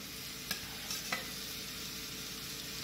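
Cabbage tipped into a pan of onions already frying until reddish, giving a dense, even sizzle with a few short clatters of stirring.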